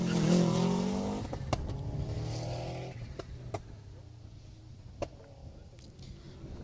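Rally car at speed on a closed Jersey Rally stage, its engine loud and close at first with a falling pitch as it sweeps past, then fading into the distance, with sharp clicks and pops scattered through the tail.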